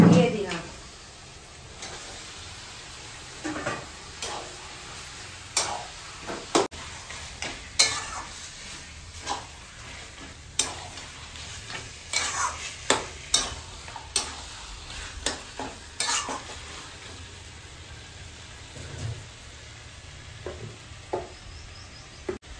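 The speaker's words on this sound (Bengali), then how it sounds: "মশলা থেকে তেল ছেড়ে গেছে, এবারে মাংস দিয়ে দিলাম।" Mutton frying in spiced oil in a pan makes a continuous sizzle with repeated scraping and knocking as a spoon stirs it, irregular close clatters over a low steady crackle.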